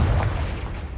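A Confringo fire spell explodes in Hogwarts Legacy, giving a deep, close boom whose low rumble swells at the start and then fades into a soft trailing roar.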